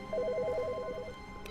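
A telephone rings in The Stanley Parable, giving a steady warbling electronic trill of rapid alternating tones that repeats for about a second, fairly quiet and alone, with no talk over it.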